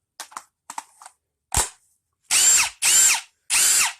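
Ryobi P238 impact driver fires in short bursts, first a few quick taps, then three loud, sustained hammering runs about half a second each, close and with no talking.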